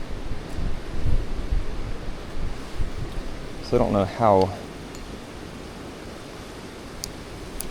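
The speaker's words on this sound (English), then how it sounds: "now the wind's whipping through again." Gusty wind rushes past the microphone during a hike to a hidden waterfall near Deep Gap, North Carolina. It is a broad, steady roar with rough bursts, heaviest in the first half, while someone speaks briefly over it.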